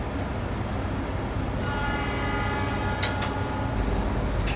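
Extra Lempuyangan–Pasar Senen passenger train pulling out of Cirebon station, a continuous loud rumbling roar with two short horn blasts near the end.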